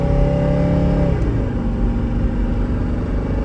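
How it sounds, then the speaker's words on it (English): A Mercedes with a turbocharged engine under hard acceleration, loud interior engine drone that climbs in pitch and then drops at a gear change before rising again, with road rumble beneath and no talking. "we'll do a little acceleration test here real quick"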